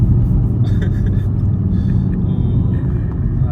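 BMW M135i with N55 engine driving, a steady loud low engine drone and road rumble continuous throughout, with no speech over it.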